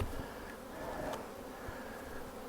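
Honeybees buzz around a hive topped with honey supers, a soft, continuous, faint hum of many insects with no voices.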